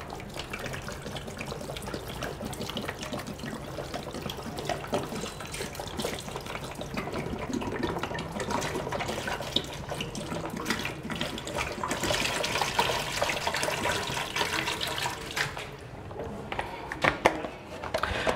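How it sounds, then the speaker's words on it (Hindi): About two liters of water being poured into the jar of a Kangen water machine, a steady continuous splashing and gurgling flow, moderately close, with no talk. "तो जैसे आप देख रहे हैं 2 लीटर पानी मैंने इसके अंदर डाला है।"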